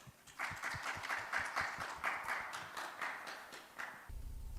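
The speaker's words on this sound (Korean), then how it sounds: "큰 박수로 환영해 주시기 바랍니다" Audience applause welcoming a presenter at a maritime forum session, a modest, fairly faint round of scattered hand clapping that thins out and stops near the end.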